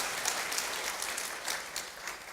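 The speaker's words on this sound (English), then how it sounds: "he deserves a big round of applause" Applause from the audience at a keynote address comes as a moderate, somewhat distant wash of clapping that holds steady throughout, with no one speaking over it.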